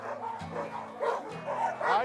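Husky dogs yipping and barking in a desert rescue, several short repeated barks close by under someone speaking calmly throughout.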